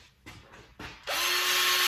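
A powered bristle brush whirs loudly against a dirty switch and circuit breaker panel from a Regal 2665 boat in a sustained burst, preceded by two short scraping knocks.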